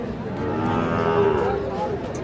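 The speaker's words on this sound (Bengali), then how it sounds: "শাহিওয়াল ষাঁড় বাচ্চা।" A Sahiwal bull calf at the Ambari cattle market lets out one long, steady, low moo, close and fairly loud, lasting about two seconds with no talk over it.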